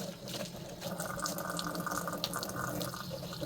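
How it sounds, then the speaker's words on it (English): Tap water runs continuously into a kitchen sink while dishes are rinsed under it, a steady close splashing hiss with shifting spatters as items move through the stream. "Rinse it off."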